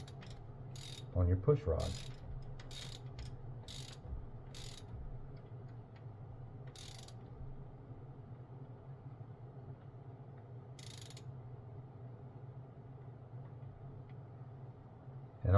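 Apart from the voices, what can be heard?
socket wrench tightening rocker arm nut on Chevy engine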